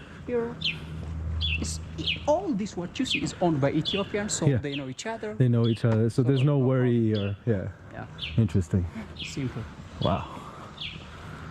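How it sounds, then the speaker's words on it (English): Birds chirp and tweet in a quiet residential neighborhood of Addis Ababa, Ethiopia, small calls scattered behind near, continuous conversation between men that dominates throughout. "can hear the birds chirping."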